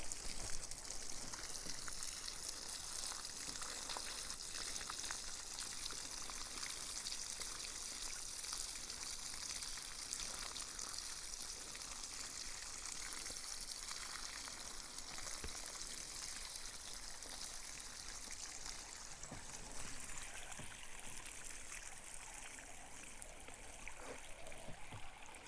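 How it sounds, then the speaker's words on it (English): Camp graywater poured through a food strainer, a steady trickling stream of water that runs continuously without pause, fairly close and alone, with no talking. "So I dump the water through the strainer like that."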